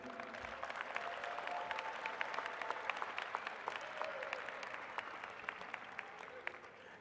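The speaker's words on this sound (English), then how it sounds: "let's give them a little applause for them supporting you" A graduation crowd applauds family and teachers at a 2022 high school ceremony, a soft, distant, continuous patter of many clapping hands filling a large space, with a few sharper claps standing out.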